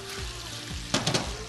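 Chicken pieces sizzle steadily in oil in a very hot pan during a stir-fry, a dense close hiss with a brief burst of louder crackling partway through.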